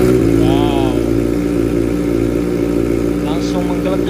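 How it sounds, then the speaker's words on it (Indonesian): A Kawasaki Ninja ZX-25R's racing exhaust rumbling loudly close by, with a throaty idle that swells into a rev and settles again. "Kita cek sound knalpot WRX."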